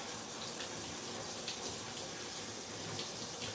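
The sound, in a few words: water running while rinsing quinoa in a mesh strainer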